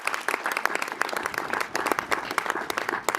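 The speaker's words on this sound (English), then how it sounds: "Let's give them a round of applause" A crowd applauds the code talkers at a memorial gathering with quick, dense clapping, many hands close together, fairly soft and steady throughout.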